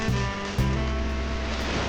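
Ocean waves at Anyer beach on a tropical coast wash in as a steady broadband surf roar, with two soft swells of breaking water rising over the continuous rush.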